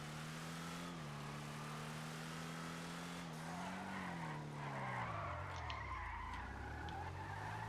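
A truck's tires skid and squeal under hard braking in a racing video game, a loud continuous engine drone whose pitch slides up and down throughout with tire scrub rising toward the end, no talk.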